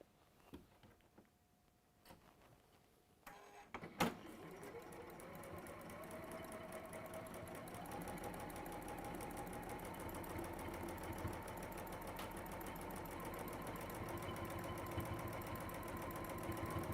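A sewing machine starts up after a few faint clicks and handling noises, then runs steadily at speed, quilting through layers of fabric bonded with Bondaweb, with a close, even, rapid whirring chatter for over twelve seconds.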